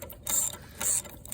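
Ratchet wrench clicking during a teardown of a Wisconsin V4 engine, two quick bursts of close, sharp ratcheting clicks separated by a short pause.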